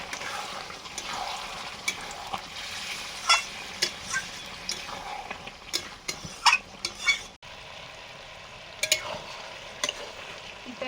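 Water spinach stir-fried with mustard paste in a pan: steady frying hiss with repeated close clinks and scrapes of a spatula stirring, loud and alone with no talk.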